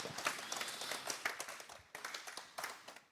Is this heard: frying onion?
no